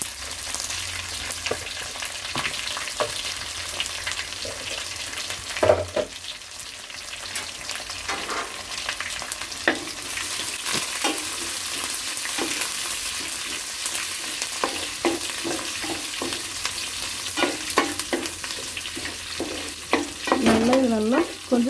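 Small onions and curry leaves sizzle steadily in hot oil for a Tamil fish curry (meen kulambu), with a continuous frying hiss broken by scattered clinks and scrapes of stirring throughout.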